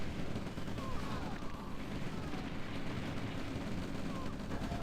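Artillery fire in a real-time strategy video game, a dense, continuous rumble of distant booms and blasts with a steady roar throughout.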